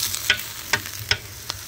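Onions sizzle steadily in a pan as the base for goulash, with several soft scraping stirs at a regular pace, close and without talking.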